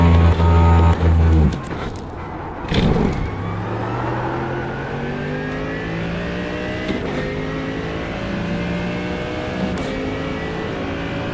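A Mercedes-AMG GT race car engine in a GT sprint racing video game at Spa, loud and close, with a high rev that cuts, then repeated rising climbs through the gears and sharp shift blips, alone without talk.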